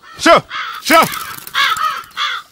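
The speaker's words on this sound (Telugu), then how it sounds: "కాకులు" Crows caw in a comedy film scene: five loud, harsh, close calls with short gaps between them, heard alone without talk.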